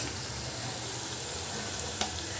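Onions sizzle in hot oil in a pan for a fish curry, a steady close crackling hiss with a faint stir near the end.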